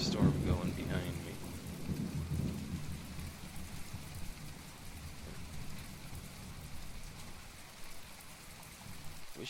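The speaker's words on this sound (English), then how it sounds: "you can hear the storm going behind me." A thunderstorm with rain: rolling thunder rumbles loudly at first, then steady rain hiss and drops continue, with a faint voice briefly under the storm.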